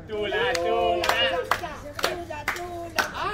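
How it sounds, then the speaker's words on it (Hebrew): Guests clap at a 50th birthday surprise party during a magician's show, a brief patter of hands in short bursts mixed with voices and children talking nearby. "תביאו לה כפיים."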